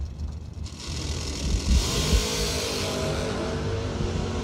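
A drag racing car launches down the strip at a Christmas bracket race, its engine roaring up from the line and holding a steady, loud, distant-sounding drone.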